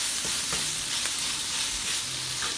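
Black beans sautéing in a hot pan hiss and crackle with a steady, dense sizzle, with occasional soft scraping stirs and faint clicks, close and continuous with no talking.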